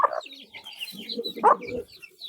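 Soft Lakka pigeon cooing nearby, a couple of low throaty calls mixed with faint chirps from other birds.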